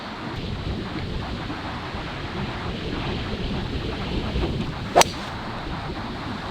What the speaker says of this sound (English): That wind's trying to pick up again now.